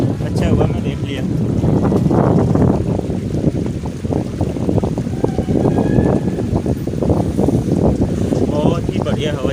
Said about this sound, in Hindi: बहुत ही अच्छी हवा चल रही है यहाँ पे।